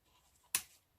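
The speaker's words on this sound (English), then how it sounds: "just snip that" A single crisp snip of scissors cutting through paper ephemera, one short sharp click close by amid near silence.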